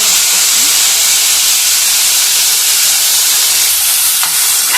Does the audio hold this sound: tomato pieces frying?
yes